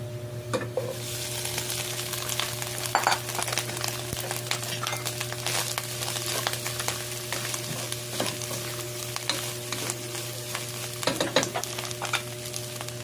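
Pork innards sautéing in a pan for bopis, a steady close sizzle and frying hiss running throughout with occasional stirring scrapes and light clinks.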